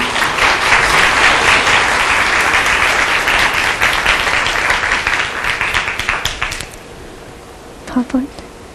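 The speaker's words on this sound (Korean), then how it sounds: "큰 박수로 맞아주십시오" A conference audience at a digital forum in Seoul applauds to welcome a speaker, a loud, dense burst of clapping that fades away, followed by a couple of brief knocks near the end.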